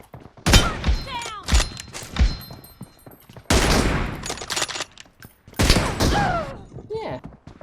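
Gunfire from an M24 sniper rifle and other weapons in the PUBG Mobile video game: several sharp, loud shot bursts spaced a second or two apart, with a voice shouting in between.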